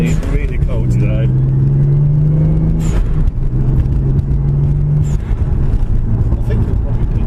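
Close, loud Toyota Supra MK4 2JZ engine noise on a wet, cold day, a low idle that swells into a couple of sustained revs, a deep rumbling drone throughout.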